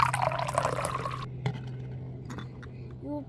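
Water poured into a soap slime mixture, a brief splashy pour at the start that quickly stops, followed by faint drips and quiet handling over a low steady hum.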